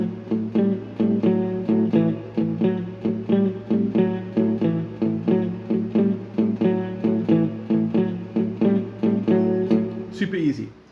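Four bars of a basic blues in A played on an electric instrument, with steady rhythmic chord strokes in an even groove that fade out at the end, and no talking over it.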